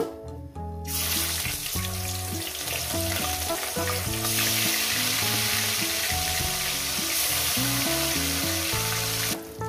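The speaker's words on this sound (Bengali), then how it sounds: "বাদ বাকি মাছগুলো একেবারে ভেজে নিয়ে দিচ্ছি" Pieces of bata fish fry in hot oil in a pan, a steady close sizzle that grows louder after a few seconds, heard over a background of melodic music.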